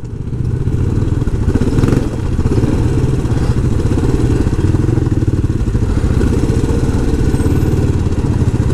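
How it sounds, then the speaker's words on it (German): A group of six or seven quad bikes (ATVs) roars past on an off-road track in Sardinia, a loud, continuous, close engine drone with rattling clatter that holds steady throughout, no talk. "Jetzt sind hier 6-7 Quads. Die kommen hier durch"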